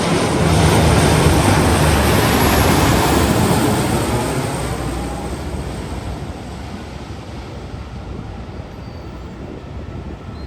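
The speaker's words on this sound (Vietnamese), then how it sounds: "chúng ta sẽ thấy được 4 động cơ nhả khói rất là đặc biệt," Four turboprop engines of a French Air Force C-130H-30 drone loudly and steadily at an airport, a broad continuous roar that slowly fades over the clip.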